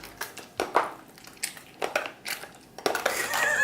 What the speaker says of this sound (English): So I'm gonna try and do like a mash.